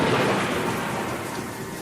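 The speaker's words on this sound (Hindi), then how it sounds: "बाहर होती बरसात में अचानक गरजती हुई बिजली की आवाज" Rolling thunder rumbles through steady rain, a dense, loud, continuous roar lasting about two seconds with no voices.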